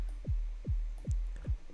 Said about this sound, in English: I start by just a simple sine wave.